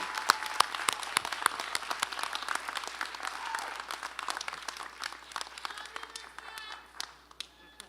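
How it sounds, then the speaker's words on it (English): A crowd applauds at a 2022 high school graduation ceremony, with dense, sustained clapping from many hands that thins out and fades toward the end. "Give yourselves a round of applause, this amazing, amazing community."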